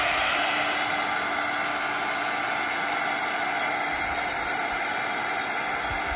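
Steady, even blowing roar of a heat gun drying a Christmas craft tag, continuous and close for the whole stretch, with no talking.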